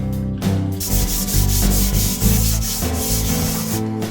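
Hand sanding of a drywall repair with perforated drywall sandpaper, a close, steady scratchy rubbing in quick back-and-forth strokes, with no speech.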